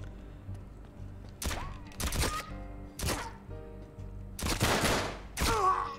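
Gunfire in the video game Uncharted: Drake's Deception sounds as loud, sharp shots in a fast irregular sequence, some in quick doubled bursts, with ringing decays and steady game background music underneath.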